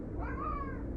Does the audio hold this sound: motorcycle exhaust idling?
no